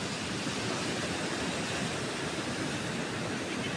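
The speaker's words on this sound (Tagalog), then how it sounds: "Ang laki ng alon." Steady, broad roar of ocean surf at a beach in La Union, continuous and fairly loud with no distinct wave breaks and no voices.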